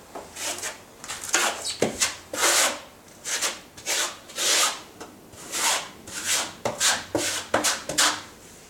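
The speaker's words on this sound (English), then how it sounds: "we then grab our notch trowel and then spread the adhesive on the area above" A notch trowel spreading tile adhesive on a wall, repeated rhythmic scraping strokes, close and fairly quiet, each sweep a short gritty rasp separated by pauses.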